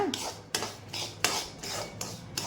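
Banana sheera stirred in a pan over low flame, with a spoon or spatula scraping and knocking against the metal pan in a steady rhythm of sharp clinks about every half second, close up.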